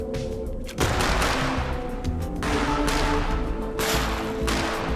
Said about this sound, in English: Volley after volley of gunfire, kissing the faces of those obelisks.